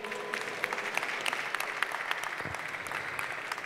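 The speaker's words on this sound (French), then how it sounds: "On peut les applaudir." Applause from an evening foundation awards ceremony crowd as prize winners arrive, steady scattered clapping heard at a moderate distance and fairly quiet.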